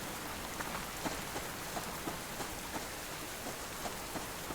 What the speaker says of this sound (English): Feels like the rain is slowing down,